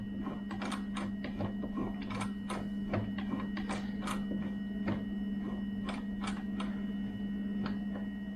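A household sewing machine sewing a homemade cloth face mask, turned slowly by its hand wheel, gives a string of soft irregular ticks and clicks over a steady low motor hum, close by and with no talk.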